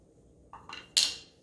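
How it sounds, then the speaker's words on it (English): Three quick clinks of a utensil against glass while coffee is stirred in a Bodum Chambord French press, close and fairly faint, the last tap brighter and ringing briefly in a quiet room. "Now we're just going to do one last stir"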